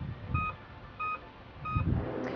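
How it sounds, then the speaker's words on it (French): Autolib electric car pedestrian warning signal, three short evenly spaced electronic beeps over low street and road rumble. "on a ce petit bip qui permet de les prévenir que la voiture arrive"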